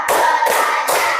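A classroom of pupils claps hands in three loud, quick group bursts, evenly spaced at roughly half-second intervals, dense and close with no talking over them.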